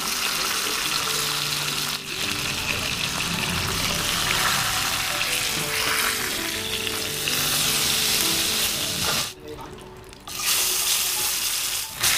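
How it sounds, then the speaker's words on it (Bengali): Tilapia fish pieces fry in very hot mustard oil in a wok, a loud, steady crackling sizzle running throughout, with a brief dip near the end before the frying noise returns just as strong. "এখন তেলাপিয়া মাছগুলো এই তেলের মধ্যে দিয়ে একটু লাল লাল করে ভেজে নেব।"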